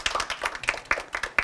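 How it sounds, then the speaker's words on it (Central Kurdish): A small audience claps in a brief, uneven patter of sharp hand claps, close and fairly loud, with no talk over it. "دەچەپڵێکم بۆ لێدەن چەپڵەیەک"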